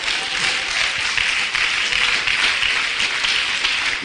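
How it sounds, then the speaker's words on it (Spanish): A church congregation applauds steadily throughout, a dense, even wash of many hands clapping with no one speaking over it. "Dale un aplauso al Señor"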